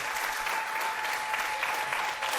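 Studio audience applause on a Turkish daytime talk show, a steady, moderately loud patter of many hands with a faint tone running beneath.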